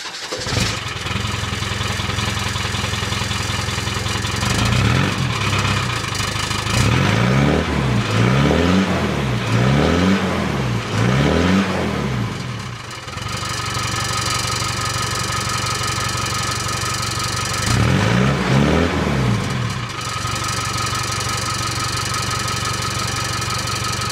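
A Land Rover 300 TDI diesel engine fitted with a rebuilt old exhaust cranks and starts, then idles with a steady knocking clatter broken by several loud throttle blips, close and without talk.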